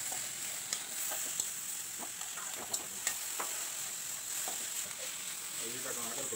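Cabbage being stir-fried with masala, salt and turmeric in a pan, a steady soft sizzle with scattered light clicks and scrapes of a spoon, faint and continuous.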